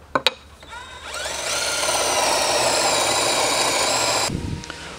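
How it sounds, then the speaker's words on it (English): A power drill winds up and whines steadily for about three seconds as it bores an angled hole through wood while building a pole lathe, then stops, with a few clicks before and after. "I've now drilled through the angled hole in one of them"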